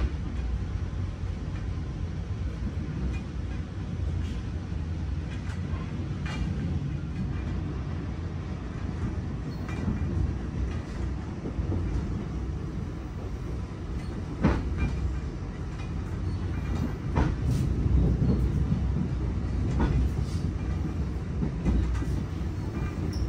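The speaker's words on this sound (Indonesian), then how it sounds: "gemblodaknya kereta ini" Rattling clatter of an economy-class KA Dharmawangsa passenger train carriage running from Jakarta to Surabaya, a steady low rumble with bumps and knocks throughout, no talk.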